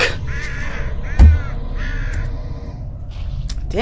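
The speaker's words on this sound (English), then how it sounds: "Stupid birds, man." Crows caw loudly and close together in the horror video game Flesh Birds, repeated harsh calls over a low rumbling background with one sharp thud partway through, and no talking.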